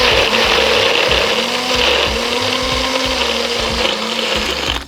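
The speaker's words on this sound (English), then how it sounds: "once I have all of my ingredients in the blender, in this case my NutriBullet, I put it all together." A NutriBullet blender whirs through smoothie ingredients in a loud, continuous motor whine with a rhythmic churning pulse as the contents circulate, no voices over it.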